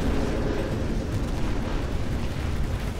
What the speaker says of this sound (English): Sounds like somebody's getting exploded